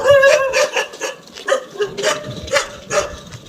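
Dogs bark repeatedly near a busy early-morning street, loud yips and barks in an irregular burst-like rhythm, several overlapping close by.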